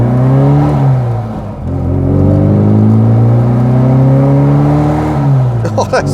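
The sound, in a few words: 1973 Wood & Pickett Margrave Mini engine pulling away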